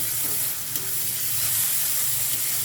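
Vegetables fry in a pan with packet noodle masala, a close, even sizzling hiss with light stirring scrapes underneath, continuous and unbroken, with no one speaking.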